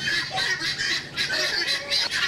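Farm turkeys, or similar fowl, gobbling and squawking on a farm at Beit Gamliel, Israel. The bird calls overlap in a near, busy chorus that runs without pause, and no one speaks.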